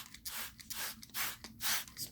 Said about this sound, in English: once we spray it really good and moisten it